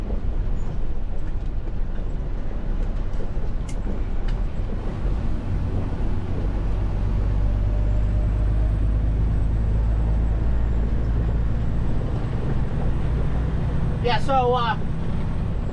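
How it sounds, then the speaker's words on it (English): A Western Star 4900 big-rig truck engine runs with a steady, deep rumble through a foggy morning drive. A short burst of air-brake hiss comes near the end, and someone speaks briefly over the drone. "no music, just the sounds of this truck"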